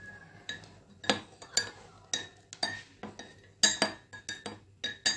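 A spoon clinks repeatedly against a glass or cup while stirring ghee into a lukewarm sweetened drink, a dozen or so sharp, close taps in an uneven rhythm with nothing else heard.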